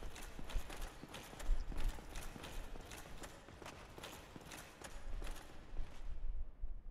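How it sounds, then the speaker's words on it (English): Footsteps in the Dark Souls video game, set in Anor Londo, come as a rapid run of clattering, clip-clop-like impacts at moderate loudness against a busy game background, with no voice over them. "I hear footsteps."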